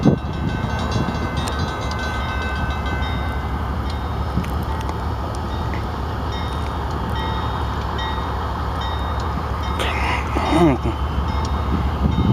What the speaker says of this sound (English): Number 6730 horn is very freaking loud.